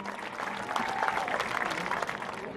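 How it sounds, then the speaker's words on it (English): A crowd applauds the senior football players at a high school football game, a steady wash of clapping at a moderate distance with some faint cheering mixed in. "Let's give all the seniors a round of applause."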